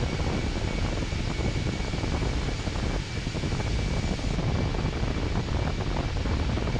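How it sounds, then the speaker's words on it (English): Airbus A320 jet engines in Microsoft Flight Simulator 2024, a Fenix ITA Airways model, give a steady, loud broadband roar with a thin high whine across the whole stretch, no talk over it. "There are several aircrafts I can identify by sound. One of them is the A320."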